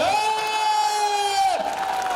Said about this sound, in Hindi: एक बार मिलकर तालियां बजाओ